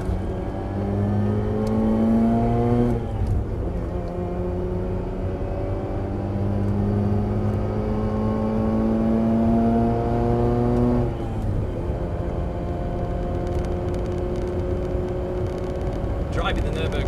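A Mazda RX8 lapping the Nürburgring Nordschleife in winter, heard from inside as the engine drones and rises through the gears with steady climbing whine and brief shifts, continuous and fairly loud.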